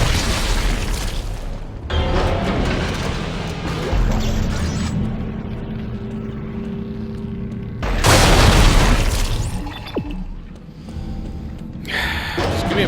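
Exploder enemies blowing up in Dead Space 3, two loud booming blasts a few seconds apart over a rumbling mechanical game backdrop, close and heavy, with a player's voice briefly heard between.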